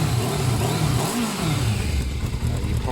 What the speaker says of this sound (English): You can hear the engine noise.